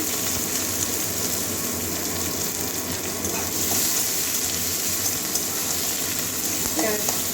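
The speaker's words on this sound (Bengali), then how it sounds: "কাঁচা লঙ্কা ভালো করে ভেজে নেবো পেঁয়াজের কাঁচা গন্ধ যাওয়া পর্যন্ত ভাজবো" Onion and green chilli sizzle steadily in hot oil in a pan, a dense continuous frying hiss with faint stirring clinks near the end.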